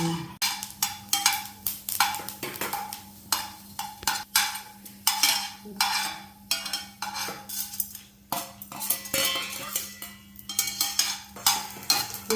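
Peppercorns and spices dry-roast in a pan for Tamil curry-leaf kuzhambu, with frequent metallic scrapes and clinks of a spoon against the pan and faint crackling, all close up and without talk.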